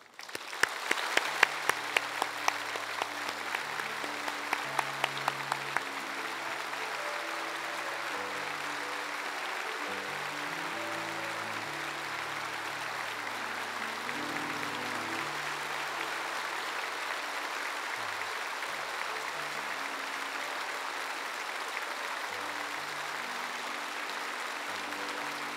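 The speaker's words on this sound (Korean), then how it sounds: "따뜻한 박수로" A church congregation claps warmly to welcome the senior pastor and his wife at a missionary sending service, with sharp early claps swelling into steady, moderately distant applause that lasts the whole span while soft music plays underneath.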